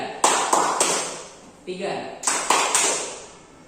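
Students in a classroom play a rhythmic hand-clapping counting game, sharp group claps landing in short clusters with a pause between, while a teacher talks over them.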